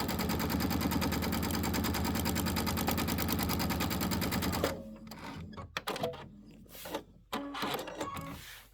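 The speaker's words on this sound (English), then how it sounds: "And that'll give me some nice parallel rows of stitching." A sewing machine runs fast and steady, stitching parallel rows of decorative stitching on a Christmas prep project, then stops, leaving scattered handling clicks and shuffling.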